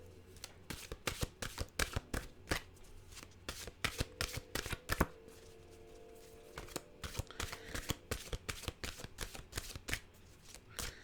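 A deck of mantra cards is shuffled close by, with a rapid, irregular run of crisp card slaps and riffling clicks that continues throughout.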